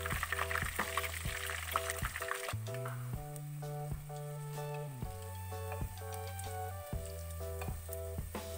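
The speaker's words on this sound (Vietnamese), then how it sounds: "Chân giò sẽ được em chiên qua dầu nhé, để tạo cái màu vàng rất là rực rỡ" Pork hock fries in hot oil with a steady, close sizzle throughout, while a rhythmic melodic music track plays over it; nobody speaks.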